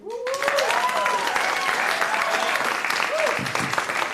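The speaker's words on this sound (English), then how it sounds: "applause." Audience at a music forum breaks into dense, sustained applause, with a voice speaking over the clapping at the start and again near the end.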